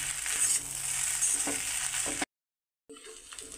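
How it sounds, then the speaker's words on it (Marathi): Cabbage for veg noodles crackles and sizzles in a pan while being mixed and stir-fried, close and bright, cut by a short gap of silence before the sizzling resumes. "पुन्हा एकदा थोडासा कोबी टाकून घेते आणि छान असं याला मिक्स करून घेऊया"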